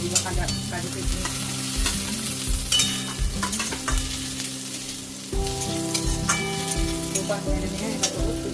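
Cashews and raisins fry in a pan of oil with curry leaves and potatoes for spicy semolina upma, a loud close sizzle broken by repeated spoon scrapes and clinks, with no talk.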